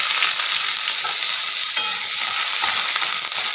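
Onions fry in hot oil with chilli and cumin, making a bright, continuous close sizzle with a few stirring scrapes over a short stretch and no talk.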